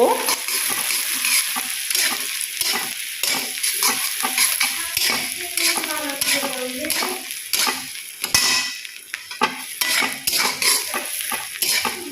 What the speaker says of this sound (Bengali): এখনও আমার পেঁয়াজটা ব্রাউন হয়নি আমি ব্রাউন করা অবধি এটা ফ্রাই করে নিচ্ছি